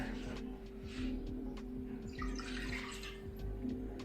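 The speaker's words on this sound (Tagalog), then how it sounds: "dito ako kumukuha ng tubig sa tap water nila, ito sa gripo" Tap water runs from a kitchen faucet in a steady, gushing stream, heard fairly close and continuous beneath a low background hum, with no talking.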